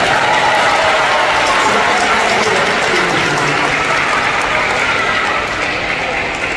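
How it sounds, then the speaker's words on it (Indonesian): Dense, steady applause from a congregation at a children's Catholic mass, loud and continuous for several seconds, fading slightly at the end. "Tepuk tangan."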